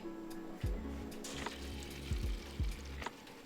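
Tap water runs and splashes at a kitchen sink as soaked grains for grain spawn are rinsed, with several gurgling pours and low sloshing surges close by and no talking.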